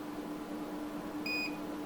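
A single short, clear electronic beep from a gauge finding the lowest point on an adjustable lathe chuck sounds near the end over a low steady hum.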